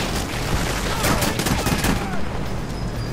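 Dense, rapid gunfire crackles through a firefight in the GoldenEye 007 video game, with overlapping bursts forming a continuous volley throughout.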